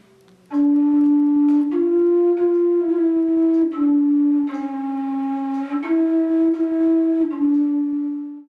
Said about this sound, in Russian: Вот одна из самых больших сопилочек, называется сопилочка бас.